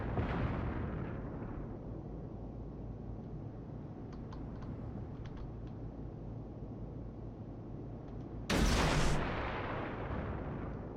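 Long-range gunfire in a war video game: a dense, steady roar of battle with faint distant cracks, then a sudden loud blast near the end, continuous and without talk.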